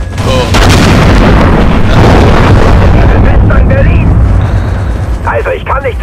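A large explosion in Far Cry 3 erupts as a loud, sustained booming roar that fills the space, with lower-level gameplay sounds afterward.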